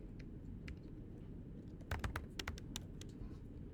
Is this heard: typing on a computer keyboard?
yes